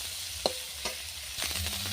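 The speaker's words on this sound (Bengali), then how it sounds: "এবারে আমি বাঁধাকপিটা ভেজে নেব" Cabbage frying in a pan sizzles softly while a utensil stirs it, with a couple of brief scrapes over the steady crackle of hot oil.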